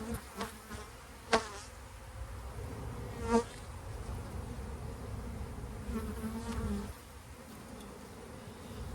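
Honeybees buzz steadily in an opened spring hive, a soft continuous hum with a few louder close passes and faint handling knocks, no voices.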